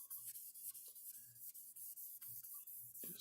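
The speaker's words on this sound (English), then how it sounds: "I'm just guiding the pad across the surface, and make sure that you keep it wet." An 8000 grit pad is worked wet across the painted body of a 1:12 scale Fujimi Nissan Skyline GT-R R32 model, giving soft, close, rhythmic rubbing strokes with brief pauses and no voices.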